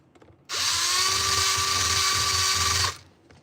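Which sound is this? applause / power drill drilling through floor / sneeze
power drill drilling through floor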